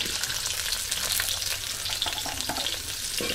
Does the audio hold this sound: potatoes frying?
yes